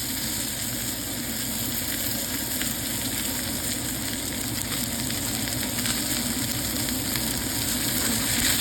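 Steak pressed down in a hot pan, a constant close, loud sear sizzle with a broad steady hiss that holds evenly throughout.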